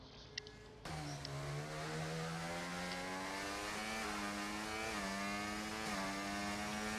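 Race cars leave together onto the Holland track in the F1 24 video game, a sudden loud, steady engine drone that starts after a brief quiet moment and holds with slight pitch rises, with no talk.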